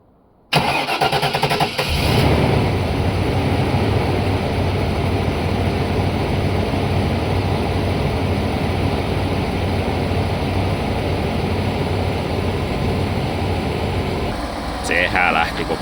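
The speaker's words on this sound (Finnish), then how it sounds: "katsotaan millainen tämä kärry starttaa" A car engine with a starting fault cranks briefly on a cold morning and catches, then settles into a steady idle rumble for several seconds, close by, with a faint ticking near the end.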